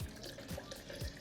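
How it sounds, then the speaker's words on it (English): Milk pours into a blender holding avocado for a smoothie, a short, close, gurgling splash of liquid with a few quick glugs. "Then now we pour in the milk."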